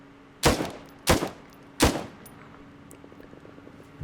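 Three loud, sharp rifle shots crack in close succession in ARMA 3 during a zombie firefight near Pripyat, spaced about half a second apart, followed by a quieter tail.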